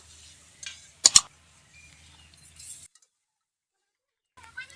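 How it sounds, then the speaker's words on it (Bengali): Prawn malai curry with water stirred in a pot, a couple of sharp scraping clinks of a spoon against the pot followed by faint soft stirring, close and sparse. "এবার নাড়াচাড়া করে সব কিছু ভালো করে মিশিয়ে নেব"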